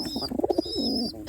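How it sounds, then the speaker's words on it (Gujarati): A pigeon coos nearby in a soft, throaty burst of several quick notes, then a longer low coo, with faint background chirping. "કબૂતર બોલે છે સારું"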